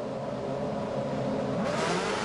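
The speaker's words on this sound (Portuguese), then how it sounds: "Aí sobe o giro com os motores." Formula One car engines revving together on the grid at the start of the German Grand Prix, a dense, steady high-pitched roar that rises in pitch and intensity near the end, with no voices.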